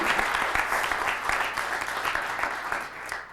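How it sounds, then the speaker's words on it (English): Audience applause at a magic lecture, a dense steady clatter of many hands clapping together, loud and continuous, fading slightly toward the end. "I think you deserve a warm round of applause"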